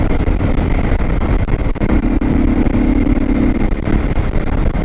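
A CSC RX4 motorcycle cruises in sixth gear at about 55 mph while climbing a modest hill, its engine droning loud and steady close by, with a constant hum and wind rush throughout.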